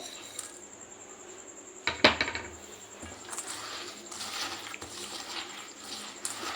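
Mashed banana being stirred together with jaggery in a bowl, a sharp metallic clink of a utensil followed by soft scraping and squelchy mixing sounds, close and fairly quiet, with no talk.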